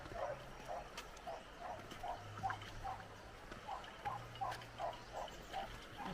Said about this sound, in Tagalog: At naririnig na marami na pong aso.